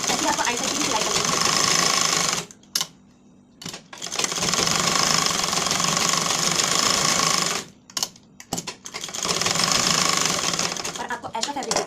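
Sewing machine running in long steady bursts while stitching the side seam of a lined blouse, loud and close, with brief pauses between runs; someone talks over the stitching.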